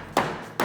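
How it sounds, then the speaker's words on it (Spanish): A wooden mallet strikes a spider crab during cooking for a rice dish, giving two sharp, close knocks about half a second apart. "Me encanta el martillo del amigo Garmendia, el amigo Texas, que es un grande"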